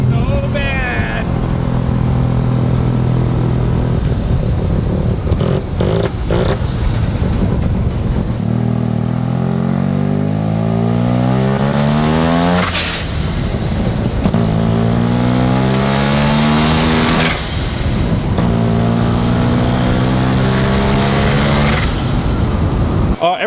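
A Mazda car with a 650cc single-rotor engine revving repeatedly close by, the raspy engine note climbing and dropping in several sweeping pulls with sharp blow-off hisses between them.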